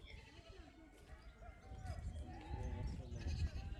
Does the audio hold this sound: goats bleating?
yes